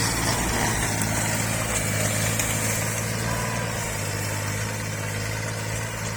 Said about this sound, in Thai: รถไถนั่งขับ เครื่องยนต์สามสูบนะครับปูกระต้าสามสูบ รุ่น L 2000นะครับ